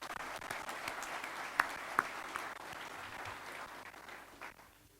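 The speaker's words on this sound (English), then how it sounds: "So maybe a round of applause for all the people behind the scenes that put this together for us." Audience applause for the behind-the-scenes staff at a Dakota-Lakota Nations recognition and apology ceremony, a steady patter of many clapping hands that holds for about four seconds before thinning out, with a couple of sharper claps standing out.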